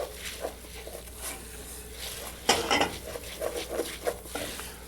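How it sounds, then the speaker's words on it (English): Basmati rice being sautéed with red peppers in a pan, heard as close scraping and clattering of a utensil against the metal pan in uneven bursts over a faint frying hiss, with no voices. "I'm going to saute my basmati rice here for about 2 minutes."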